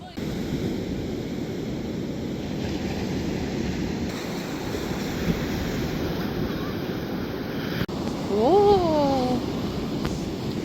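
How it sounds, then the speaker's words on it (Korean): Steady rushing surf of ocean waves washing in on the coast of Jeolla-do, South Korea, with wind buffeting the microphone and a brief high voice near the end. "파도가 넘실넘실."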